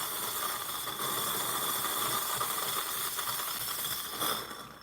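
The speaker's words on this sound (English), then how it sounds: "nice strong steam." Steam wand of a Gemilai Owl 3007 espresso machine blasting a strong, steady hiss for about five seconds, close and loud, tailing off slightly at the end.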